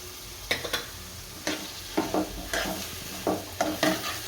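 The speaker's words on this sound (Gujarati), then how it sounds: "હળદર હારી હલાઈ નાખશું।" Spoon stirring turmeric into mung dal cooking in a pot, a series of sharp scraping strokes at uneven intervals over a soft background sizzle, with no talk.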